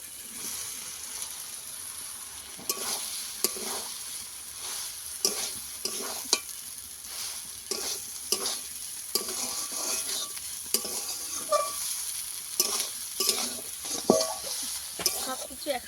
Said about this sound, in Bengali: ভালো করে মিশিয়ে নেবো নিয়ে একটু কষিয়ে নেবো